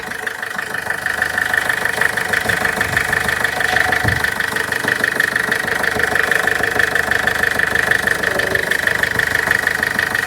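A 2012 Ford Figo car engine idles at an even, steady pace, close up and fairly loud, with a continuous mechanical hum and faint ticking and no one talking.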